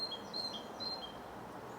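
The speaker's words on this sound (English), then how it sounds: "The birds are speaking to each other" Small birds chirp outdoors on a December morning, several thin high tweets scattered over the first second, faint and distant above a soft steady hiss of open air.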